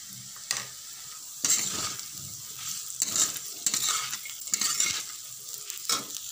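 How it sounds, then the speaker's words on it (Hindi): Orange-coloured rice fries in a pan over a low flame, a steady soft sizzle broken by repeated scraping stirs of a spoon against the pan, close and without talk. "और इसे आप कम आंच पर इसे भी आप फ्राई करें।"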